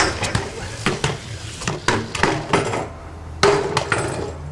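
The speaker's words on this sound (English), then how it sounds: "That was a feeble grind." A BMX bike grinding a rail in a feeble grind, heard as a string of sharp metallic clanks and scrapes, close and loud, repeating irregularly over several seconds.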